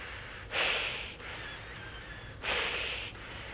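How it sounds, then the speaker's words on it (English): Breathing through a face mask is laboured and heavy, with two loud, rasping inhalations spaced about two seconds apart and quieter breaths between them, close and alone. "working pretty hard to breathe."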